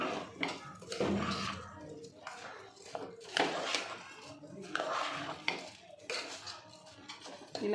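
A spoon scrapes and clinks against a pot while rice and lentils are stirred together into a pulagam mixture, giving irregular close metallic scrapes and knocks throughout.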